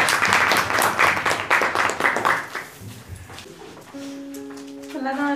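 An indoor audience at a student gathering claps for a few seconds. The applause fades, and then a brief tonal chime sounds.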